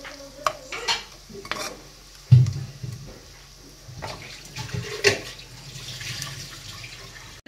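Vegetables go into a hot, sizzling pan and are stirred, with scraping utensil clatter and bursts of frying over steady background hiss.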